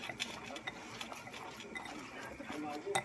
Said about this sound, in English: I'm going to get my hands in. And I'm going to mix that together